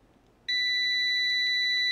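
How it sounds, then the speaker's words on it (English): A digital multimeter set to continuity gives a steady, loud electronic tone when its two probes touch. The tone starts sharply about halfway in and holds unbroken, with a few faint clicks layered over it. "Make sure it's on a continuity alarm setting, so when you touch the two probes together"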